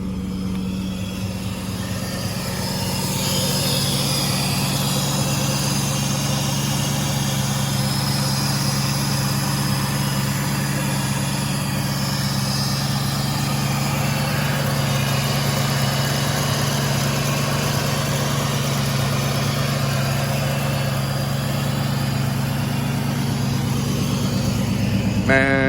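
A car with a stock exhaust idles steadily at a salvage auction yard, a low, even hum that holds throughout without revving, fairly close and moderately loud, with no talking.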